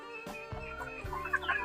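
Five male chicks cluck and peep in a roomy cage, a few short soft calls close by, rising slightly toward the end.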